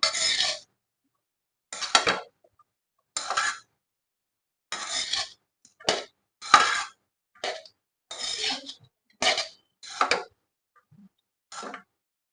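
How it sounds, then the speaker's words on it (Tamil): A spoon scrapes through sabudana khichdi in a pan after lemon juice goes in, producing about ten separate short scraping strokes with quiet pauses between them. "லெமன் ஜார் ஊற்றியாச்சு நல்லா கிளறி விடலாம்"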